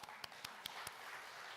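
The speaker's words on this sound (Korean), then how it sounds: "박수 한번 치겠습니다" A church congregation briefly applauding a deacon during a Sunday sermon, heard as a few sharp claps spaced through a short, quiet stretch over faint room noise.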